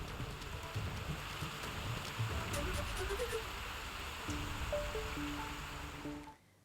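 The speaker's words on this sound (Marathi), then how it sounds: "लोणावळ्यातील अनेक भागात पावसाच्या सरी बरसल्या" Rain showers falling in Lonavala during the monsoon, a steady broadband hiss of rainfall that holds throughout with a few faint tonal sounds in the background, cutting off abruptly at the end.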